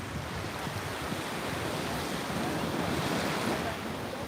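Sea surf washes steadily along the shore at The Hague, a continuous broad rush of waves mixed with wind buffeting the microphone, moderately loud and unbroken throughout.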